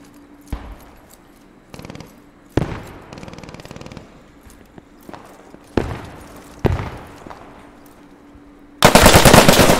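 Machine gun fire in the World War II shooter Post Scriptum, scattered single shots and short bursts with reverberant tails, ending in a loud sustained burst, close and with no talk.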